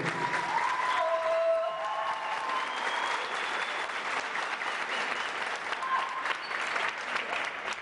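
An audience claps steadily through a live stage event featuring dancers, a dense, sustained wall of applause from a large crowd that holds at an even level from start to finish.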